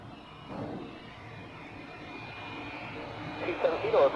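An Air Baltic airliner at Zurich Airport, its engine noise a fairly quiet, steady drone that swells a little toward the end, with someone talking over it.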